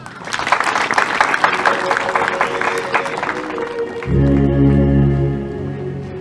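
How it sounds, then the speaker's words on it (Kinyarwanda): An audience applauds at an Umuganura harvest celebration honouring a priest: a dense, steady wash of clapping for about four seconds, then music takes over. "kagira ngo nabo bose tubaha amashyi menshi."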